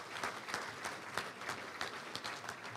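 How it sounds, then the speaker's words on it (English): A room full of people applauds the volunteer check-in ladies at a Little Rock touchdown club luncheon, with dense, steady clapping that carries on evenly throughout. "Let's give them a round of applause for the great work they do every week."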